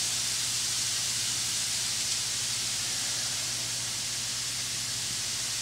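Bacon and other ingredients sautéing in a pan give a steady, loud broadband sizzle that holds evenly throughout, with a faint low hum underneath and no talking.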